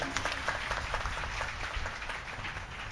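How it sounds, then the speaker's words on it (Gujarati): Steady applause from a crowd, a dense patter of many hands clapping at moderate distance, continuing without a break. "હવે તમે તાળી પાડો તો વાંધો નહીં"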